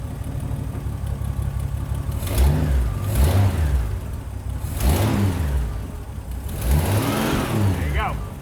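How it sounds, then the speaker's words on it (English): A cheap truck engine fitted with a $125 turbo revs in four rising and falling blips over a steady idle, with a faint whine at the end and voices talking nearby. "Rev it up a little bit."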